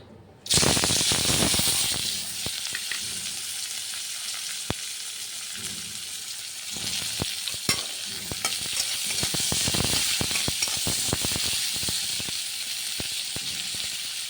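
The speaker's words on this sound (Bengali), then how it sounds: "এখন তেল দিয়ে দেব আর একটু এখন পেঁয়াজগুলি দিয়ে দেব" Onions sizzle steadily in hot oil in a pan for an egg curry, a loud broadband frying hiss with frequent sharp clicks and spatula scrapes from stirring, no voices.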